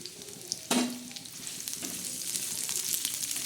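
Chopped onion frying in a hot pan for a dark black masala, with a sharp sizzle burst as it goes in, then a steady close crackle and occasional stirring scrapes.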